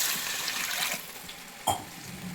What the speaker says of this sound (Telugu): నేను ఇప్పుడైతే వాటర్ యాడ్ చేస్తున్నా